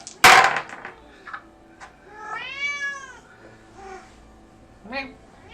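A person imitates a cat's meow with a few drawn-out, rising and falling mewing calls during a tabletop role-playing game, after a sharp loud bang at the start, with quieter voices in between.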